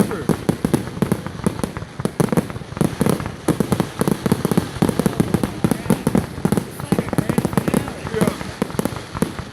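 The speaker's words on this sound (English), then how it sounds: "these are the best tackle fireworks ever" Backyard fireworks and firecrackers popping and crackling rapidly and continuously at close range, a dense loud barrage throughout with people's voices mixed in.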